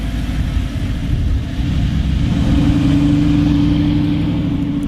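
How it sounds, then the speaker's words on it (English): An Audi R8 sports car drives past outdoors, its loud engine a steady, close roar with a rising tone that builds toward the middle and holds. "I bet it's a really nice car about to drive behind me"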